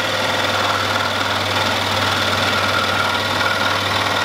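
Scroll saw motor running steadily with a constant low hum and buzzing blade vibration while a small part is cut on tight curves, loud and continuous throughout with no talk.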